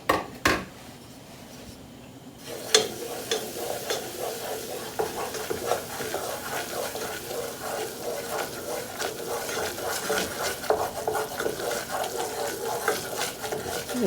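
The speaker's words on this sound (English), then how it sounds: "Into my melted butter here, put your heat still on. I'm going to add 4 tablespoons of all-purpose flour." Flour stirred into melted butter in a pan on the heat, giving a continuous sizzle broken by rapid, repeated scraping strokes of a utensil; quiet at first, then steady and close.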